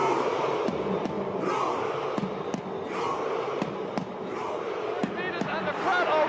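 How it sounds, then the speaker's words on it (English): A crowd roars and cheers over a close rowing race finish with British and Italian crews, a loud continuous wash of voices with sharp intermittent bangs and a commentator talking over it. "And the crowd are roaring, the British boys."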